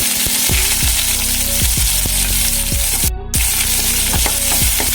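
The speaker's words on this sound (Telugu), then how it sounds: "ఉల్లిపాయలు వేసేసుకోవాలండి." Onions frying loudly in hot oil with mustard seeds and black gram for a Telugu tempering, a steady broadband sizzle broken by a regular series of sharp spoon-against-pan taps and one very brief dropout.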